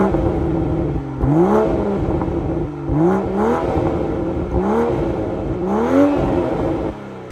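Toyota Supra engine revving repeatedly with exhaust note, four distinct rising rev sweeps climbing in pitch then dropping, close and loud over a steady idle rumble, no talking.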